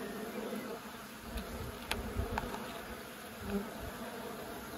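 Honey bees buzz around an open beehive in the countryside, a dense, continuous hum with individual insects droning past close by.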